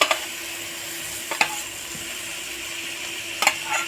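Boiled, deboned fish stirred and sautéed with masala in a pan, giving a soft, steady sizzle with a few brief scraping stirs near the start and end.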